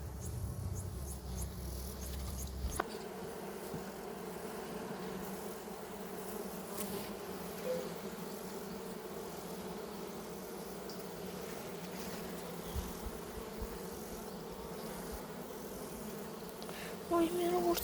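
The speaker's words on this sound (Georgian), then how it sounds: "დაბლა ცოტა ფუტკარი არის." Honey bees buzz in and around a beehive, a low continuous drone heard up close and alone for the whole stretch, fairly faint.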